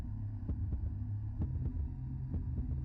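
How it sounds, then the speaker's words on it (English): Heartbeat effect from the video game Corruptbox, a run of soft low thumps over a steady dull hum, the beats somewhat irregular and moderately quiet with no voice over them. "Ah, yes. A heartbeat."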